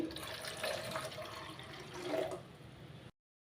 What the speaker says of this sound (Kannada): ಇದಕ್ಕೆ ನಾನು ಒಂದು ಲೋಟ ನೀರು ಹಾಕ್ಕೊಳ್ತಾ ಇದ್ದೀನಿ